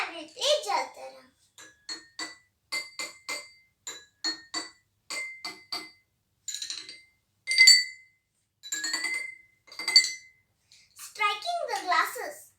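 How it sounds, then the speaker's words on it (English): Jal Tarang played by striking glasses filled with different levels of water: a series of bright ringing clinks in short runs and pairs at varied pitches, close and clear, with a few brief interjections from a voice. "Now I will play Jal Tarang."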